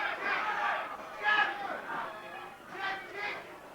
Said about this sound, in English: the big crowd here at Eden's Garden have certainly come alive for this first bout